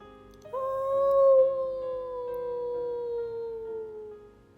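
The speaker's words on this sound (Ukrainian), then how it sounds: "Раптом чує ойка, хтось у лісі виє." A single long, mournful howl in a forest rises and then slowly fades over several seconds, clear and fairly loud against a quiet background.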